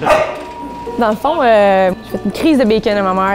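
A dog barks and yips in a few short bursts, close and loud, mixed with a person speaking French.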